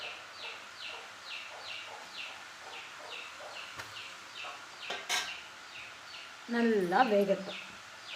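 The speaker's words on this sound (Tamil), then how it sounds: "பயங்கரமாக மியூசிக் கொடுக்குறாங்களா எங்கள் வீட்டு கோழிங்க." Hens at home cluck in a steady repeated pattern through most of the stretch, moderately close, with kitchen noise and someone speaking briefly near the end over the birds.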